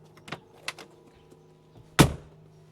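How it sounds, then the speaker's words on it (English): The door of a 2025 Mercedes-Benz G580 EQ electric SUV shuts with a single loud, solid thwack, preceded by a few faint clicks of the handle and latch. "A signature thwack of door close noise that is already separating this EV from pretty much every other one"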